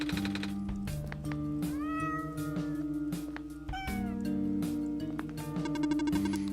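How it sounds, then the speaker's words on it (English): A cat machine in the video game OneShot meows several times, bright rising and falling cries over a layered background melody with a thumping beat. "Oh, it's the cat machine."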